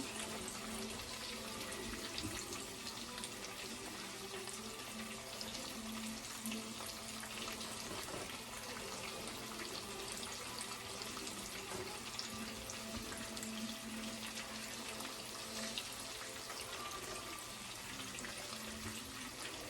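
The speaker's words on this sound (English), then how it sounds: "your pan should be sizzling when you put the chicken in there" Steady, dense sizzling and crackling of breadcrumbed stuffed chicken breasts frying in a hot pan, continuous and fairly loud, with no talking.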